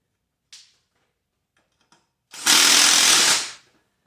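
A power wrench buzzes in one short, loud burst of about a second on a skid steer track of a John Deere 280, after a couple of faint clicks and knocks.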